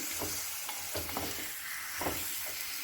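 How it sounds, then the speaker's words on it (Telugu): Chicken pieces being stirred and mixed through curry in a pan, soft scraping strokes recurring every second or so over a steady low sizzle, close and moderately quiet with no talking. "బాగా మిక్స్ చేసి చికెన్ ముక్కల్ని"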